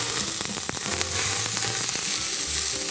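Loud, steady sizzling of onions frying in very hot oil in a pan, with sharp crackles and pops scattered throughout and no voices.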